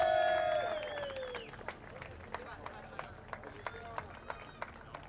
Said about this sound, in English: In third place, a round of applause for JNKD driver Benjamin Karajkovic.